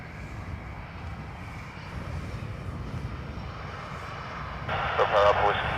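A plane taking off from runway 10 right at Dublin Airport makes a distant, steady low roar that swells slightly, with a brief crackly radio-like burst over it near the end.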